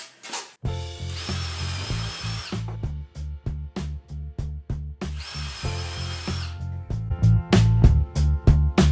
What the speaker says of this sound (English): I'll be able to drive them into the wood a little bit